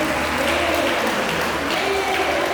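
Church congregation at a Baptist service applauding, an even, continuous roar of clapping at moderate level with some crowd murmur and voices beneath.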